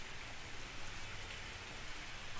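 Steady rainfall in the video game Jurassic World Evolution, a dense, even patter of drops on surfaces that hisses continuously at a moderate, soft level with no voices over it.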